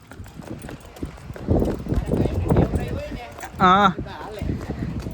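Horse hooves clip-clop during a horse performance show, with a steady beat under excited cheering and talk from onlookers and a brief loud whistle-like sound near the end.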